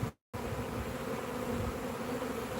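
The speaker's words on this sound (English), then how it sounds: "It's nice to be out in the bee yard again" A steady, dense drone of honeybees hovers around a bee yard in northern Ohio, constant and close after a brief moment of silence at the start, with no voices.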